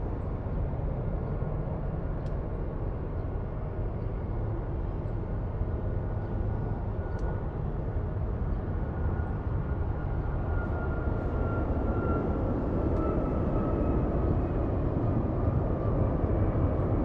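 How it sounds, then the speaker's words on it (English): A United 737 MAX 8 airliner departing LAX roars steadily at a distance, a broad continuous jet rumble with a faint rising whine that holds throughout, no talk. "Next for departure, we have United 279 on a 737 MAX 8 heading to Tampa,"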